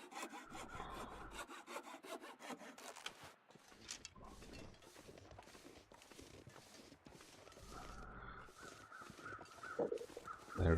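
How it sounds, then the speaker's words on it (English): A hacksaw saws through a deer carcass in The Long Dark video game. The strokes are quick, rhythmic and rasping, repeating steadily for about ten seconds with a faint outdoor ambience behind them and no talk. "We've got to watch because our hacksaw is getting quite weak now."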